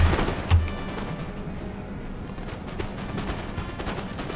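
Booming artillery and cannon fire in an 18th-century French empire strategy game, two heavy low thumps near the start followed by a continuous rumble of distant scattered shots and explosions.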